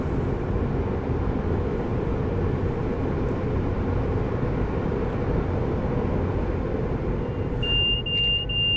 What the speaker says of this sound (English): Pendolino going past me?